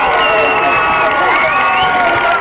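A crowd at a girls soccer game, nearing a possible shootout, cheers and shouts loudly without pause. Bright, high-pitched yells and whistle-like tones run throughout from the stands on both sides.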